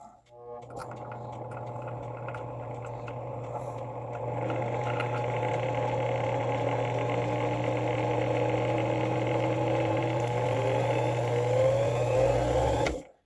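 A 1.04 mm drill bit turning in a chuck with oil while repairing a wooden clock movement from around 1870, producing a steady motor hum and whine that grows louder partway through.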